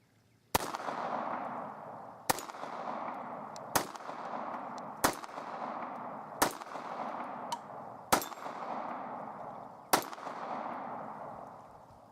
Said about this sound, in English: I'm going to start my first shot off doing that double action only.